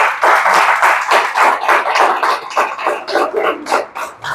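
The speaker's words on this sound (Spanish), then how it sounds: "¿Cuántos le pueden dar un aplauso al Señor?" Church congregation applauding together during a service, a dense, loud wash of clapping that breaks into more distinct rhythmic claps as it starts to fade.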